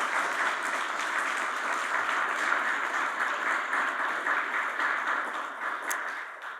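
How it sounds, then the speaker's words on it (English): Steady applause from a large audience for two speakers at a University of Toronto entrepreneurship event, dense and even, holding for several seconds and fading slightly at the end. "So another round of applause for our two speakers."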